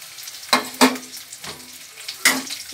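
Curry leaves fry in hot oil, giving a quiet sizzle broken by a few sharp crackling bursts as they hit and spit, close by with no talking.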